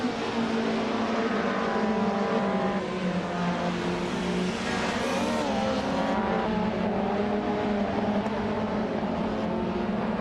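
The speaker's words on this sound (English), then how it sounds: "The race has just started" Race cars in a video game accelerate away just after the start, producing a steady, loud, buzzing engine drone with overlapping tones that waver slightly throughout, with no voices.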